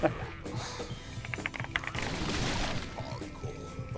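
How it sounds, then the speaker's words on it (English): Keyboard typing from a GK600 TKL wireless keyboard, heard as a loose run of quick clicks and clacks of moderate loudness, with one voice faintly audible in the background at times. "I can hear your keyboard so much louder than mine."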